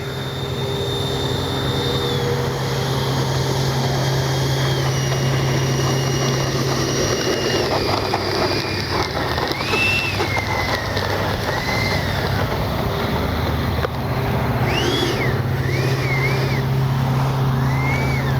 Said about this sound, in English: Absolute fabulous flying plane.